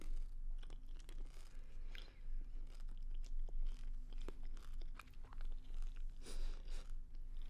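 Gum being chewed close up in a quiet room: soft, moist crunching and smacking bites come in an irregular rhythm, faint and intimate, with no voice over them.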